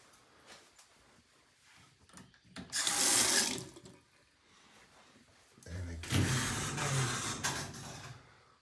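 At an eco lodge, a tap is turned on twice and water rushes out in two bursts of a few seconds each, close and loud, with quiet room sound between them.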